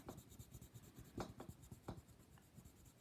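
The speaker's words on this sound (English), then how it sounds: "I am pressing quite hard with my nice bright red pencil here." A bright red watercolour pencil pressed hard onto mount board, giving a close, dry scratching and scraping texture with several firmer strokes standing out over about three seconds.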